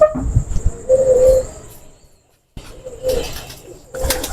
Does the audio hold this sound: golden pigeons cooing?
yes